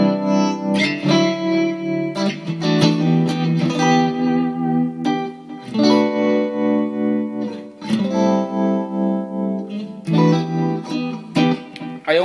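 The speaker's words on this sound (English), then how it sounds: "we have this tremolo pedal here" An electric guitar runs through a pedalboard with a tremolo pedal, playing ringing chords and phrases with a pulsing, wavering volume and some reverb, close and without talk.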